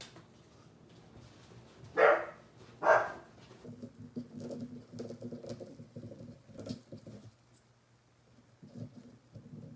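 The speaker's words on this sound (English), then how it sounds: "Old Jack's wild out here barking at something again." A dog named Jack barks outdoors in two loud, sharp bursts, then settles into softer scattered yaps and rustling noise, fairly close by.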